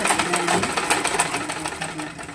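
Sewing machine stitching a blouse with double seams, a fast steady mechanical whir with rapid repeated needle clicks, close and continuous throughout.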